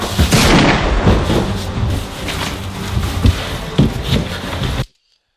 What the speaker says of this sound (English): the sound from the gunshot is a bit too loud